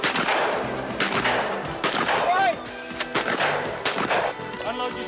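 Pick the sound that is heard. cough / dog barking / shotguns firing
shotguns firing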